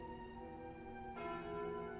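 The Calling Bell relic in Slay the Spire rings out as a deep, resonant church-like toll with a second strike about a second in, sustained over a bed of game music.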